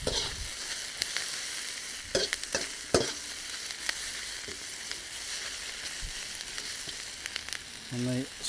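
Chicken and seasonal vegetables stir-frying in a wok, a steady loud sizzle broken by several sharp scraping and clanking strikes of the utensil against the metal, heard alone without talk.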